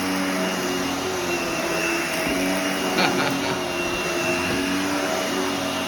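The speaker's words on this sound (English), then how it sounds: "listen to that crunching. Let me get you some crunchy bits. There we go. Straight up the vacuum." A loud vacuum cleaner drones steadily over carpet throughout, with a few brief crackling bursts as crunchy debris is sucked up.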